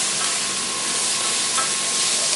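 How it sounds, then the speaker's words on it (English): Sliced mushrooms with fresh sage and parsley are stirred in a hot pan, giving a loud, steady, close sizzle that continues without a break. "And we're just gonna stir that around."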